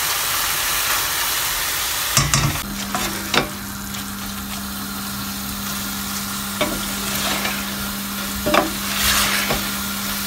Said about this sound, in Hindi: चिकन को मैंने 2-3 मिनट तक भून लिया है